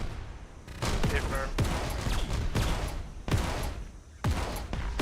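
Gunfire in the Arma 3 military game, repeated heavy sharp reports in uneven bursts with echoing tails, loud and close, with faint voices underneath.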